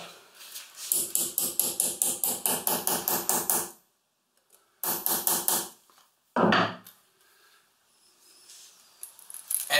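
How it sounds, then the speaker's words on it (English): Hammer strikes on a steampunk leather mask, a fast run of about fifteen sharp blows, then a pause, a shorter burst of several more, and a single heavy knock, close and loud with no talk. "Got a better hammer."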